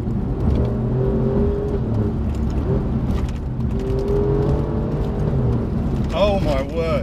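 An Alfa Romeo Giulia Quadrifoglio on winter tyres accelerates in first gear, with a loud engine drone and rising whirs heard from inside the car, and a voice exclaiming near the end.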